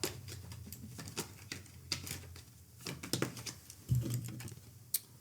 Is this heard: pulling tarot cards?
yes